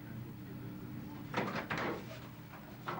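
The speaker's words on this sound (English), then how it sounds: "A knock at the door" A few muffled knocks at a door in a mid-1990s British setting, heard as soft, fairly quiet thuds spaced out over a couple of seconds against a low background hum.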